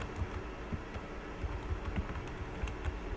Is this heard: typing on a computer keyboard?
yes